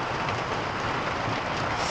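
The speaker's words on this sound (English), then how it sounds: "Heavy rain." Heavy rain falling on a farm, a brief, steady hiss of dense downpour, close and even in loudness.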